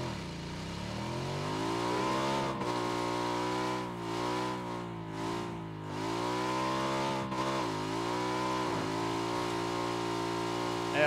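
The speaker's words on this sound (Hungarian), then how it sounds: "Fölpattanunk a motorra." A motorcycle engine in a first-person shooter video game hums steadily, its pitch rising and dipping as the bike accelerates and shifts, moderately loud and continuous without speech.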